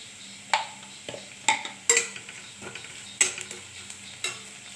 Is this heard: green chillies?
yes